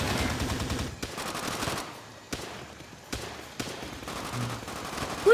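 Machine gun fire in Call of Duty: World at War co-op, with several distant sharp bursts and reports rattling over a dense background of battle noise.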